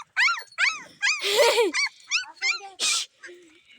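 A dog whimpers and yips in a rapid series of high, wavering cries close to the microphone, with short pauses and a breathy whine between.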